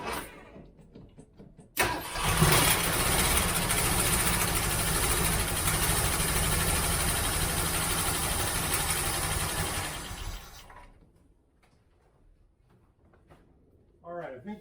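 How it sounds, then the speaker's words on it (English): A 1967 Ford Mustang with a 390 engine is cranked and fires, then runs at a loud, steady rumble for several seconds before shutting off; a voice speaks briefly near the end. "Hopefully the battery has enough juice in it to crank it and start it."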